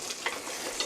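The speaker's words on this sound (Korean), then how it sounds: "저을 때 살살 이렇게 저으면 두부가 부서지지 않아요." Mapo tofu being stirred gently in a pan, a soft continuous sizzle with light scraping touches, faint and close.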